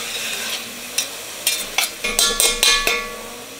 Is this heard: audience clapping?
no